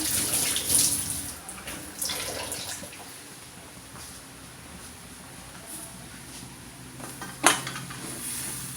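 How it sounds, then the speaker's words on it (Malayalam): Hands are washed under a running kitchen tap: a steady stream of water splashes into the sink, with occasional dish and utensil clinks nearby. "ഞാൻ കൈ ഒന്ന് കഴുകിക്കോട്ടെ"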